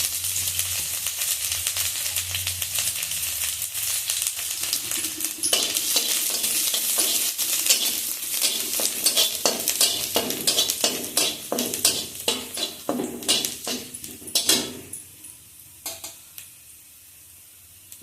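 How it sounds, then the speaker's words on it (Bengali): Hot oil sizzles steadily as chopped garlic hits the pan, followed by repeated scraping and clinking of a spatula stirring, fading toward the end. "তেলটা গরম হয়ে গেছে এখন আমি রসুন কুচিগুলো দিয়ে দিচ্ছি"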